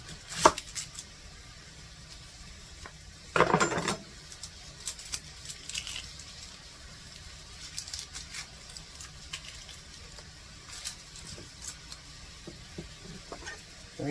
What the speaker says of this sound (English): We're going to chop that in half, and then we're going to do slices.